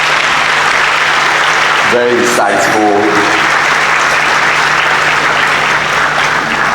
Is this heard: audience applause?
yes